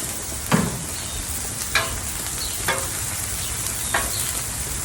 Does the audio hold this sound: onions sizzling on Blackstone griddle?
yes